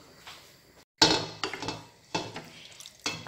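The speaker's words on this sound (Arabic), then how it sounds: "البلبوله ديالي غادي نغسلها" Belboula, cracked barley grits, being washed for soup: a few sharp splashing, clattering bursts of water and grain in a bowl, close and spaced irregularly, with no talking.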